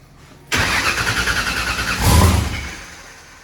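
A turbocharged car engine turns over under a loud, rhythmic starter crank on its first start, then catches with a brief surge of revving before easing off.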